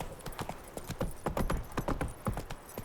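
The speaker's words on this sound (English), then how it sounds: "Ooh, that was nice horse clopping sound" Horse hooves clopping in The Witcher 3 video game, a quick, fairly loud run of hoofbeats in an uneven galloping rhythm, close by with no talk over it.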